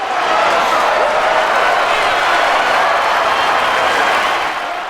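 An audience and fellow ballet dancers in the film Black Swan applaud from the stage, a loud, dense wash of clapping and crowd noise that holds steady throughout and eases slightly at the very end.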